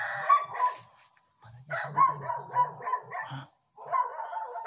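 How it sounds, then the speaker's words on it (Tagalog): Big dogs bark in a series of close, loud woofs and yips, pausing briefly between bursts, with a short spoken interjection at the start. "Ang lalaki ng aso tol."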